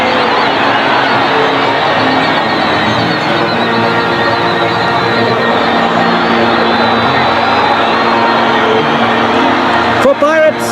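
Kaizer Chiefs supporters in a packed football stadium during an Orlando Pirates match, a dense, steady roar of cheering crowd noise throughout, with a commentator talking over it.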